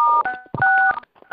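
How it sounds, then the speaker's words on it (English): Telephone keypad DTMF tones as conference-call participants press star 6 on their phones, a few sharp overlapping beeps in quick succession, loud and close with brief pauses. "I want you to press star 6 right now on your phone"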